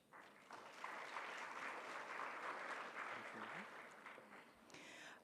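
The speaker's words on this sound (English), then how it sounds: "A big round of applause also for Society for Family Health" Sustained round of applause from a large audience at the opening ceremony of a pharmaceutical students' world congress in Kigali, a steady wash of clapping heard from a distance for about five seconds.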